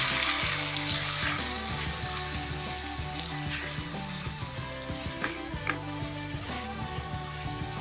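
Tomato and half the spices for poori ke chana fry in a pan with a steady, loud sizzle running throughout, crackling continuously with a few sharper pops.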